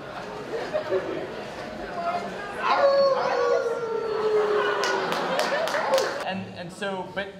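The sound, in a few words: convention crowd howling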